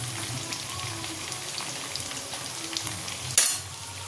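Prawns and cumin powder fry in hot oil in a pan, giving a steady close crackling sizzle throughout, with a brief sharp clatter near the end.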